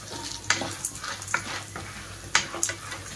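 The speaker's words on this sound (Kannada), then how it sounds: "ಹುರ್ಗಡ್ಲೆ, ಕಡಲೆ ಬೀಜ ಮತ್ತು ತೆಂಗಿನಕಾಯಿ ಇದಿಷ್ಟು ಚೆನ್ನಾಗಿ ಫ್ರೈ ಆಗಬೇಕು." Roasted gram, peanuts and coconut frying together in a pan, a steady close sizzle broken by several sharp scraping stirs of the spatula, with no talking.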